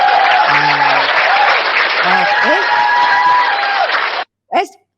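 A studio audience erupts in loud, dense applause and cheering for frontline workers, a thick roar of clapping with shouts that cuts off abruptly, followed by a brief voice.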